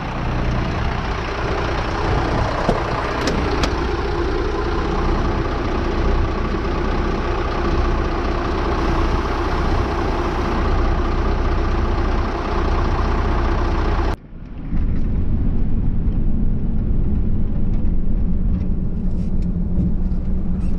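A Massey Ferguson 487 tractor engine drones loudly and steadily while driving on the road, its tone shifting abruptly to a lower, muffled rumble partway through, with no talking heard.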